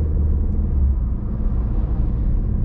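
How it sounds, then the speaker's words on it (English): A 2015 Ford Fusion driving on a test drive on a rainy day, a steady low engine and road rumble heard from inside, no talk. "Let's take her for a test drive."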